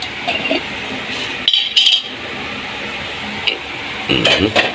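Fish and ground-meat omelette fry in cooking oil in a pan, a steady sizzle under stirring and clinking of utensils against cookware, with a few louder scraping bursts and occasional voices in the background.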